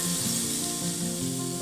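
Ginger and garlic hit hot oil already holding chilies and Sichuan peppercorns, giving a steady, close, loud sizzle that hisses without pause.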